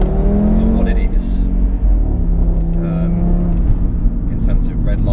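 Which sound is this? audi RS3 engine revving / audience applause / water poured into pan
audi RS3 engine revving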